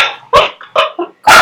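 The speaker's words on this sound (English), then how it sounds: "Amber, can you sort my dog out, please?" A dog barks nearby in a quick run of three or four loud, sharp barks with short gaps, alone with no talking.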